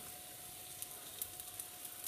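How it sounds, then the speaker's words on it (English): Pancake batter sizzles in coconut oil in a frying pan, a faint, steady hiss with occasional soft pops, and nobody speaking. "Nice sizzle."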